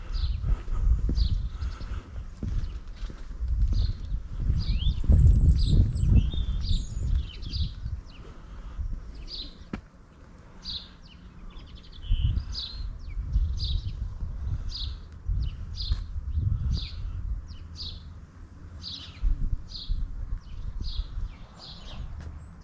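Sparrows chirp in short repeated bursts through a quiet village of thatched cottages, fairly distant over a soft low rumble and footsteps-like movement, with no one talking.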